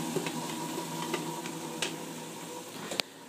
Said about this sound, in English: The onions are starting to sweat. That's why they are making the noise.